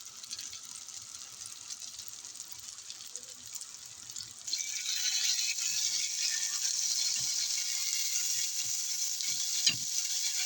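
Mushrooms topped with kashar cheese frying in a pan, a bright steady sizzle that jumps louder partway through and keeps crackling close up, with occasional light clinks of stirring.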